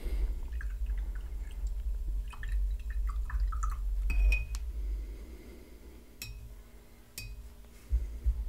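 A paint brush is rinsed in a water container, giving faint scattered drips, sloshes and light clinks against glass over a low background rumble.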